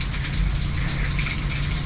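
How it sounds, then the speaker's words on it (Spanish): Water gushing steadily in a stone courtyard fountain in an old house, a continuous close splashing rush with no talk over it. "Y aquí tenemos como una especie de fuente."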